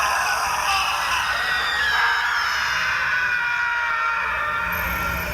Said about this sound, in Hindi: शुरू हुई कमरे में लोगों की दर्द से चीखने की आवाजें